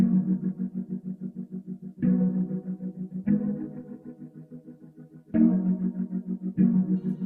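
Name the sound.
synth ghost piano chords with effects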